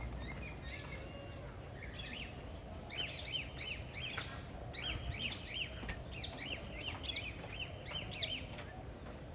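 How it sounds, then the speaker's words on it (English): A parrot calls from a branch in a bird garden: a steady series of repeated, sharp chirping calls in clusters, fairly close, over constant outdoor background noise with no talking. "This parrot is sitting on the branch."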